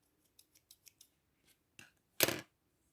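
Scissors cutting paper for a Halloween card: several small quiet snips close by, ending in one longer, louder cut.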